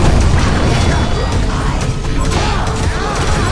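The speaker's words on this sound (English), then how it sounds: "The Hellborn have destroyed a Legion Tower!" A Legion Tower collapsing in the game Heroes of Newerth, a loud, dense crash of crumbling and grinding mechanical debris that stays heavy and unbroken throughout, with no speech.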